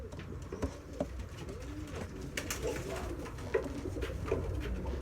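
Pigeons in a breeding loft coo softly and steadily in the background, with faint rustling and a few light knocks.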